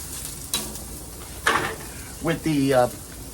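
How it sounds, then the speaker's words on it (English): Smash burgers pressed flat with spatulas on a Blackstone griddle, giving a few short sizzling bursts and scraping hisses close up, separated by quieter gaps. "I'm going to smash it with the spatulas. That's how I'm going to smash my smash burgers."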